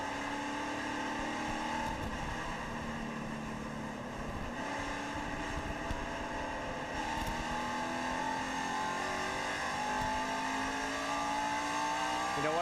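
NASCAR stock cars accelerate on a race restart at California, engines droning and rising in pitch together over wind noise, with a loud, sustained roar and brief shifts.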